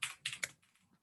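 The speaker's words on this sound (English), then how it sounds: "I'm just typing this so you guys have a visual." Typing on a computer keyboard: three or four quick, close key clicks in a brief burst, then softer taps trailing off.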